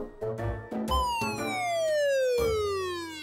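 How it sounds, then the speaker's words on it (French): A toy-like electronic police siren from a cartoon drone starts after a few clunks, its tone sweeping downward in a long wail, loud and close. "Tu pourrais activer la sirène de la police?"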